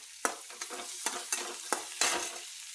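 Vegetables with whole peanuts, chili and roughly chopped garlic frying in a pan, stirred in repeated scraping strokes about every half second over a steady, close sizzle.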